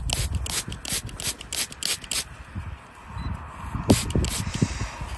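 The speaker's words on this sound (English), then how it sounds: "Let me give it a spray, let me give it a spray." Repeated short hissing water sprays and scrubbing rubs on a freshly dug-up coin follow one another in quick bursts, close by, with a pause before a few more.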